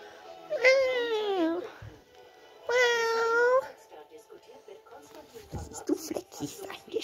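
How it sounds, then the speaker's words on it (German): A cat gives two clear, drawn-out meows close by, each about a second long, with quiet indoor noise and soft voices afterward. "Miau! Fluffy, Leo miaut"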